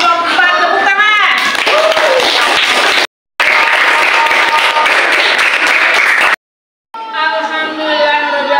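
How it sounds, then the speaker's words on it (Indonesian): Classroom students clapping for a student group in an Islamic religious education lesson, loud and dense bursts broken by two brief dropouts, with a voice speaking over the clapping at the start and end. "Kita aplaus untuk kelompok 4, tepuk tangan."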